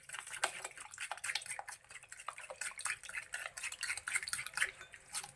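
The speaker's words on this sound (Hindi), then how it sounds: "अब हम इसको करेंगे मिक्स अच्छे तरीके से।" Sugar whisked into a French toast egg mixture in a bowl, quick repeated clinks and scrapes of a utensil against the dish, fairly close and soft, with no talking.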